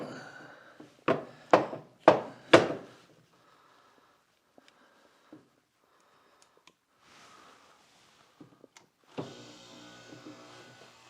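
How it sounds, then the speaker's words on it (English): A DeWalt shop vac is handled with a few sharp knocks and scattered clicks, then its motor starts near the end and runs with a steady, fairly quiet broadband whoosh close to the microphone. "Just to see how the actual motor itself sounds."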